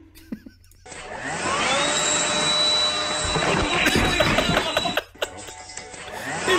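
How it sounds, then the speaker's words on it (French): A vacuum cleaner switches on with a rising whine and runs as a loud, steady roar, dips briefly toward the end, then starts up again, with scattered indoor knocks before it begins. "Qui allume un aspirateur pendant que t'es en train de manger?"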